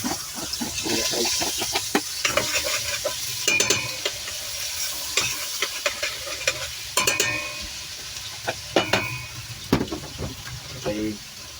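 Ginger added to a hot pot while cooking prawns, frying with a constant sizzle and intermittent clinks and scrapes of a utensil against the pot, with a voice speaking now and then.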